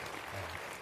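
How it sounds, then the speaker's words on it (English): A brief, steady burst of audience applause for Secretary Julián Castro at a town hall, faint and dense, with no voices standing out. "Big, huge applause for Secretary Castro."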